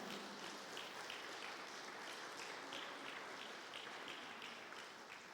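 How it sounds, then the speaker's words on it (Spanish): A church congregation claps together in a steady, rhythmic applause that sounds faint and distant, like a soft wash of many hands. "Dale un fuerte aplauso al Señor."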